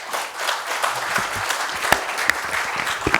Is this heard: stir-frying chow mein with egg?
no